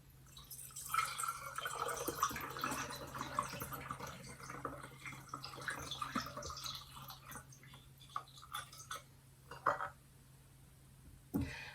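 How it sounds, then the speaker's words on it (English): Homemade fire cider is poured through a funnel into a small bottle, a continuous trickling, dripping flow of liquid with light glassy clinks, close and fairly quiet. "So I got myself a funnel, and we'll just pour it in."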